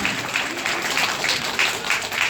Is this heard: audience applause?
yes